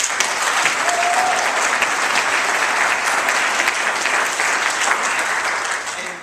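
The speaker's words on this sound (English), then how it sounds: "Please give yourselves a round of applause" Sustained audience applause at a public-speaking event, a thick even wash of clapping from many hands that holds steady for several seconds and tapers slightly at the end.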